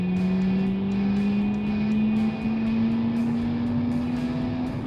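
Race car in BeamNG with Automation, held at full throttle in a 1980 city setting, a loud continuous engine drone with pitch rising slowly and steadily, close and alone without talk.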